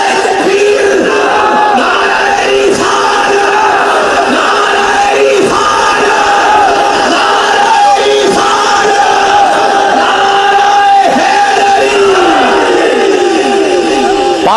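A large crowd at a religious political rally chants a slogan in response to a call, with loud, dense massed voices roaring in repeated surges that fill the whole stretch.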